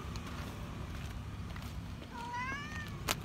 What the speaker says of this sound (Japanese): にゃーっと近づいてきました。